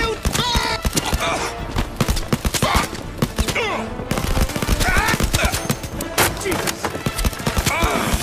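Gunfire in the VR shooter Blood and Truth: loud, rapid bursts of shots with thuds and splintering impacts, nearly continuous, with voices shouting in between.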